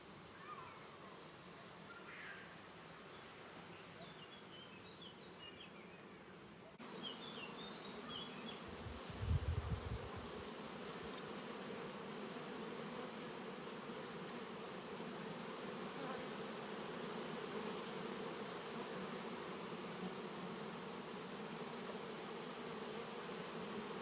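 Bees hum continuously around hive boxes at a breeding apiary, a dense steady buzz that stays faint to moderate throughout, with a brief low thump partway through.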